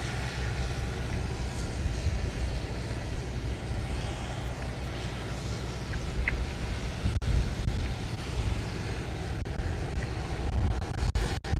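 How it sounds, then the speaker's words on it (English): Steady low rumble of wind buffeting the microphone at the SpaceX Starbase launch site in Boca Chica, South Texas, continuous and fairly loud throughout, with no voices. "Pretty windy out right now."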